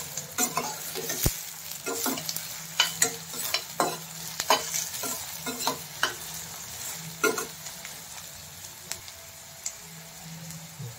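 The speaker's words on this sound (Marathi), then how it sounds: "कांदा, कांदा एकदम छान असं भाजून घ्यायचा आहे पूर्णपणे." Chopped onion frying in a pan for a fresh cashew vegetable dish, a steady close sizzle with repeated scraping and clinking as a spoon stirs it.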